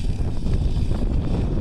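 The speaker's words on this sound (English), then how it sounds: "so it's so windy out here" Strong wind buffets the microphone with a continuous low rumble and gusty roar, close and fairly loud.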